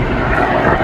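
An airplane flying overhead above a town, a loud, steady broadband engine roar that fills the whole moment without a break.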